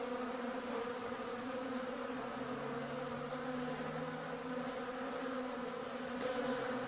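Honey bees cluster at the top of their hive after release for cleansing flights, making a continuous, dense buzzing hum at close range with a low steady drone and no voices.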